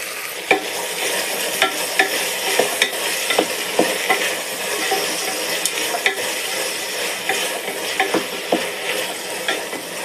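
Tomatoes and peas sizzle in a hot pan for mushroom pulao while a spoon stirs them, giving steady frying hiss with regular sharp taps and scrapes against the pan, close and continuous.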